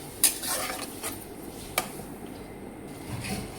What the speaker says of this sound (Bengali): দিয়ে একটু ভালো করে সুন্দর করে নাড়াই দিব, দিয়ে মশলাগুলো ভালো করে ফ্রাই করে নিব।